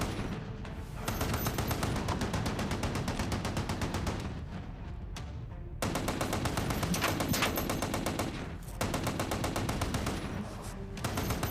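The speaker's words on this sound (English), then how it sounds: "keep firing that gun! Pin them down!" Rapid, sustained machine-gun fire, likely a heavy .50-caliber gun in an action movie battle, rattles in long continuous bursts with brief pauses, loud and close, with no talk.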